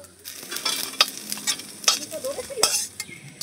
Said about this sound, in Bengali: তারপরে এগুলো একটু ভালো করে ভেজে নেব মাছের ডিমগুলো।